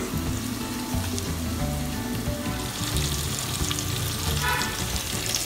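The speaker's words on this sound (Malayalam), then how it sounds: "ഇതൊരു ലോ ഫ്ലെയിമിൽ വെച്ച് ഒരു 10-15 മിനിറ്റ് കുക്ക് ചെയ്യാം." Chicken pieces frying in oil over a low flame for Bukkari Arabic rice, a steady dense sizzle and crackle that runs without pause, close and fairly loud.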